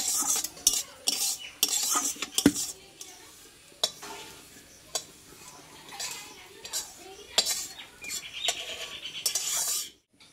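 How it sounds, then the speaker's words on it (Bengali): Reddish roasted semolina is stirred in a metal pan with repeated scraping strokes and light clinks of a spoon, close and uneven in rhythm, before the sound stops abruptly at the end. "সুজিটা কিন্তু আমি একটু লাল লাল করে ভেজে নিয়েছি।"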